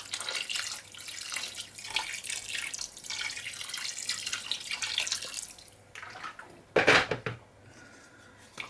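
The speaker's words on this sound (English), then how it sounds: "so just add some more water" Water poured into a pan of oxtail on a home kitchen stove; a running, splashing pour through most of the stretch, then a brief louder burst and a quieter tail, close and alone without talk.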